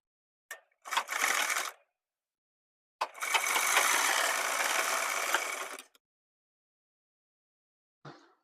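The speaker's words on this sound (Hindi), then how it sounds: "एक बार और सिलाई इसमें लगा लेंगे जिससे हमारा ये मजबूत हो जाए" A sewing machine stitches a seam on a jeans pant in two bursts, a short whirring run then a longer steady run of about three seconds, with brief clicks at the start and end and silence between.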